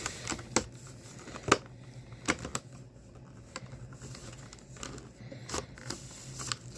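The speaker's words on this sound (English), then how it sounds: "I get me a knife in here and I just cut the bubbles off mine." A box cutter blade slices the clear plastic bubble off a 2022 Masters of the Universe Origins Mantenna action figure card, giving a series of sharp, close clicks and crackling plastic snaps at irregular intervals with no talking.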